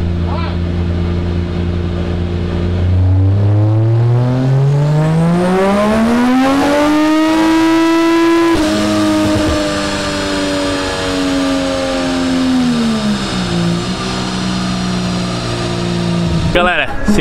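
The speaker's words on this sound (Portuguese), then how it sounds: "Estamos aqui com o Silvia S14 agora, motor 1JZ, a gente vai passar no dinamômetro para ver quanto que ele tem de cavalaria." A Nissan Silvia S14 with a 1JZ engine revs hard on a dynamometer, the engine note climbing steadily through the gears, then dropping and rising again, loud and close with a sharp burst at the end.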